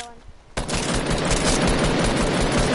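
Rapid automatic gunfire from a video game plays through a loud headset, bursting in abruptly after a brief quieter moment and then rattling on continuously at full loudness.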